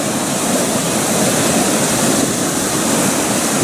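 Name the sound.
river rushing through rapids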